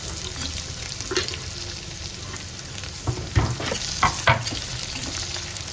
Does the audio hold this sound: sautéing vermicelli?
yes